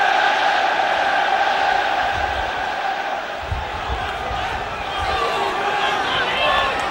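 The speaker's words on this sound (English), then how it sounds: "the first opportunity for the crowd to open their throats and roar their encouragement for Everton" A football crowd roars encouragement for Everton at a corner during an FA Cup match against Middlesbrough, a steady, sustained wall of stadium noise with commentary over it.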